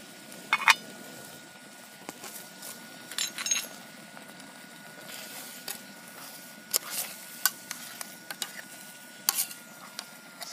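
Leftovers sizzle and bubble softly in a pan on a Biolite camp stove, with scattered pops and occasional clinks of a utensil against metal, close up and quiet.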